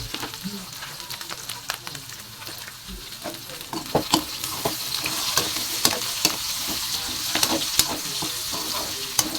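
Ingredients for adobong labong, bamboo shoots adobo, browning in a hot pan, a steady sizzle broken by frequent clacks and scrapes of a stirring utensil, close and growing busier.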